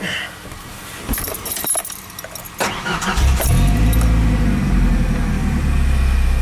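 Keys jangle and clack for a few seconds, then a Lincoln Navigator's engine cranks and fires up into a loud, steady idle rumble that continues to the end.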